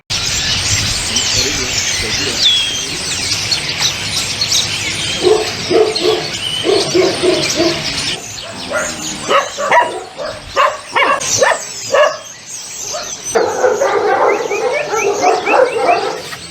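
Several dogs bark and yelp in a noisy, echoing animal shelter and rehabilitation center, with a voice calling out partway through.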